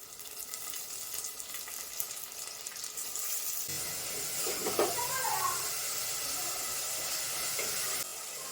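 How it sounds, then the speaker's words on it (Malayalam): Chopped tomatoes drop into a pan of sautéed shallots for a Palakkad-style home lunch curry, setting off a steady, close hiss of frying that swells midway as they land, with a voice talking over the sizzle. "ഇനി കട്ട് ചെയ്ത തക്കാളി ഇട്ട് കൊടുക്കുകയാണ്"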